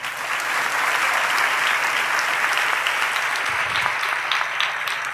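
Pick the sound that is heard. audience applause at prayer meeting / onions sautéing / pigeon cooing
audience applause at prayer meeting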